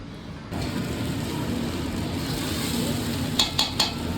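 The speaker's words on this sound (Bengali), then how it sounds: "চালটাকে আমি সেদ্ধ করলাম এখন ফ্রাইড রাইসটা বানাবো" Fried rice being stirred in a pan with a steady scraping, sizzling texture throughout, ending in a few sharp clinks of a utensil against the pan.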